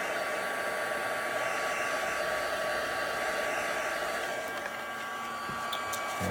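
A heat tool blows a steady, loud whoosh across a paperback book page to dry stamped acrylic paint, the tone holding even for the whole stretch with a slight dip near the end.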